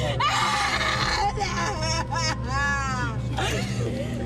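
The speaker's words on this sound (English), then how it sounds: "The piercing sound of screaming seeps from the back of the patrol car." A woman screams and wails from the back seat of a police patrol car, piercing drawn-out cries over a constant engine drone, with other voices talking nearby.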